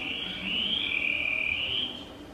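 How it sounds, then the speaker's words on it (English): A single long, buzzy trill from a Ferriarum chorus frog of a population sympatric with Nigrita in Georgia sounds at moderate level over a quiet, low background hum. "Okay, this is the call of Ferriarum where it's sympatric with"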